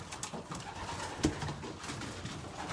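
Racing pigeons in a race loft give soft repeated coos under a steady background murmur, fairly close, with one brief sharper note partway through.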